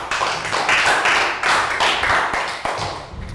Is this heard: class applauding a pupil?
yes